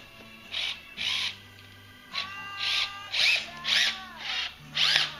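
A power drill drives a stainless steel screw into a passive trans-humeral, elbow disarticulation prosthesis, giving about seven short, close whirring bursts separated by brief pauses, with no voices.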